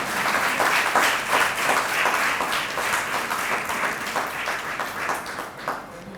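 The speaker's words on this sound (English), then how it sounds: "A big round of applause for all the women who are here." An audience at a mothers' milk event in Hyderabad claps for the women present, a full round of applause that runs steadily and thins out slightly toward the end.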